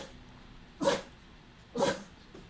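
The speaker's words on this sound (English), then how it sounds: "My dog's sneezing." A dog gives two sharp sneezes about a second apart, each a short, close, breathy burst against a quiet room.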